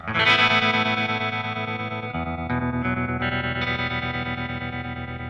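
An electric guitar plays through a Fender Twin Reverb amp, loud sustained chords with heavy effects, chorus and distortion ringing out, then shifting to a new chord pattern with no talking.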